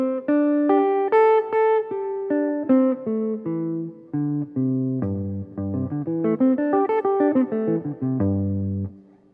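A jazz guitar plays a quick single-note pentatonic pattern, a steady run of plucked notes moving up and down the neck, close and clear with no talking.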